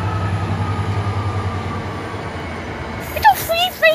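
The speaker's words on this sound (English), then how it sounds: "Trains in a row." Low rumble of a train rolling past at Nuneaton station, including locomotive 66765, then sharp metallic squeals and clanks near the end as wheels grind over track.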